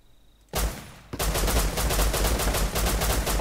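A rapid automatic burst fired at a door in Rust starts after a quiet moment, breaks briefly, then resumes as loud, steady, close gunfire with no speech.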